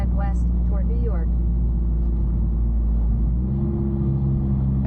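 A catless Toyota Camry drives through late-night New York City traffic with a steady, deep engine drone. The tone and rumble change about two-thirds of the way through as it downshifts, and a faint voice is heard briefly near the start.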